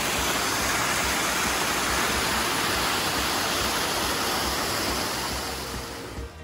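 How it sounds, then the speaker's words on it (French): Water pours down waterfall cascades in the Vosges mountains, a dense, unbroken rushing roar that stays loud and steady before easing slightly at the very end. "Superbe, enfin de l'eau dans des cascades."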